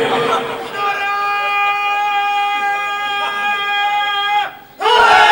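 A large crowd at a Shia majlis in Mahlowala, Gujranwala, chants religious slogans in unison, a loud sustained collective call held for several seconds, then cut off and restarted.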